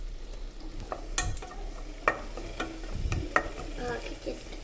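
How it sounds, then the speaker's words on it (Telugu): Vegetables and capsicum fry in oil in a pan, a soft steady sizzle broken by scraping stirs and a few sharper clinks of the utensil, close and fairly quiet, with no talking. "ఇప్పుడు దీంట్లో నుంచి ఆయిల్ సపరేట్ అయ్యేదాకా అయితే ఈ వెజిటేబుల్స్ అయితే కుక్"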